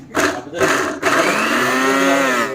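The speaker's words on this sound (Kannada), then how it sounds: "ನೀರುಳ್ಳಿ ಬೆಳ್ಳುಳ್ಳಿ ಗ್ರೈಂಡ್" A mixer grinder grinds onion and garlic for a Tulu-style bangude fish curry, its motor whining loudly in two short pulses before running on in a steady, high-pitched roar.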